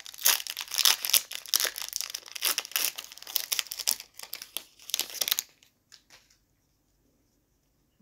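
A Magic: The Gathering Strixhaven Lorehold prerelease booster pack wrapper is torn open and crinkled, loud close crackling for about five seconds, then a few faint rustles before silence; no talking.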